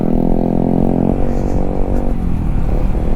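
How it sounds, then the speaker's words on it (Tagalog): A loud, rough motorcycle engine drones close by on a road in Lobo, Batangas, its pitch shifting slightly as it rumbles past with some rattling. "Medyo maingay yung motor niya eh."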